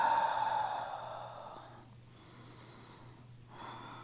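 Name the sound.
deep breathing during yoga pose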